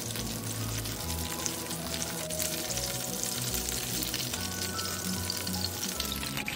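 Hilsa fish pieces fry in hot oil for a Bangladeshi fish curry, giving a steady, dense sizzle with fine crackling throughout, close and continuous with no talking.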